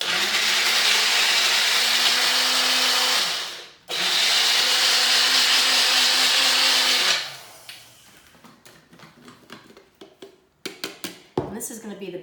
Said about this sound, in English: So I'm going to put this in my grinder here.